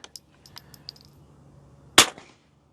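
A single sharp rifle shot on a shooting stage cracks loudly near the end. Faint clicks and light handling noises come before it, and there is no voice.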